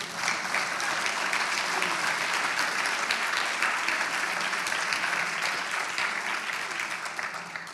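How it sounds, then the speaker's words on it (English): A large audience applauds steadily at a summit gathering, a dense, even wash of clapping that holds throughout without pause and fades only slightly at the end. "Come on, give us a round of applause."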